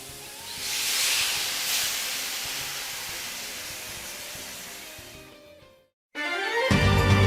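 Sauce mixture and aromatics tipped into a hot pan of broccoli and tofu give a loud, sustained steaming hiss that slowly fades, a brief silence, then a fresh burst of sizzling.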